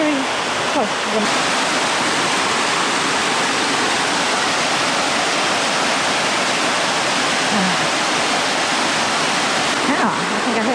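Ross Creek waterfall and its stream roar in a continuous, even hiss of rushing water, loud and near for the whole stretch, with no breaks and only faint passing sounds on top.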